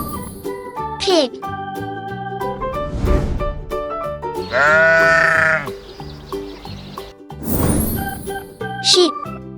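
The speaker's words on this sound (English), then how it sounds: "Sheep." Sheep bleating in a children's animal-learning sequence, several wavering bleats rising over light jingly background music.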